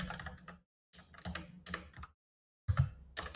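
Computer keyboard typing in short bursts of rapid close key clicks separated by brief silences, quiet and alone without voices.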